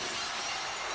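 Glass shatter entrance cue from the wrestling video game WWE '13, a loud, bright burst of breaking glass filling the whole second with no voices.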